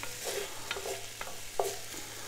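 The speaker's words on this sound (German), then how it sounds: "Und das schmoren wir uns jetzt auch nochmal mit an." Chicken and vegetables for a chicken-asparagus curry braise in a Dutch oven, with a steady close sizzle broken by a few sharp utensil scrapes and clicks against the pot, and no voices.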